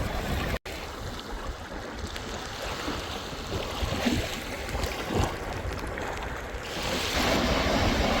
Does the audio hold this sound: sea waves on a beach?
yes